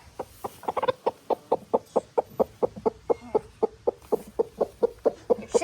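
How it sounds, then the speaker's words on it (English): Broody chickens cluck in a steady, evenly spaced series of about twenty-five clear pulses, close and fairly loud, with faint background noise and no talking. "Our chickens are broody right now."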